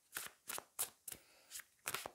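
Enchanted Forest tarot cards being shuffled in quiet, close bursts, six soft riffling swishes spaced about a third of a second apart with brief pauses between.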